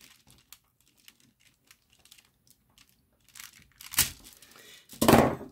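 Scissors snip through a plastic drinking straw during a straw bridge build: a first quiet cut, then a sharper, louder crunching snip about a second later. Faint small handling ticks come before the cuts.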